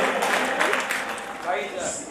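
A crowd claps steadily in a dense, continuous patter at a Marwari bhajan gathering during auction bidding, with voices mixed in underneath throughout.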